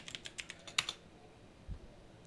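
Faint keystrokes as commands are typed on a computer keyboard: a quick run of about seven or eight taps, then a pause and one soft thud, all close and quiet.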